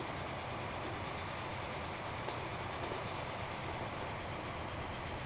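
A Mallard steam train running in the Transport Fever video game, heard as a continuous rumbling rail roll with faint rhythmic clatter, steady and fairly quiet throughout.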